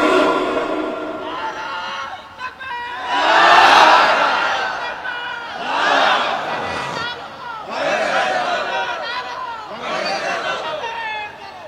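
Large crowd at a Bangla waz sermon repeatedly chanting takbir in loud, swelling bursts, about four collective shouts rising and falling in a steady rhythm, close and energetic.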